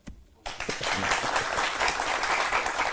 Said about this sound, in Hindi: अगर नहीं मालूम थी फिर बजाई ताली।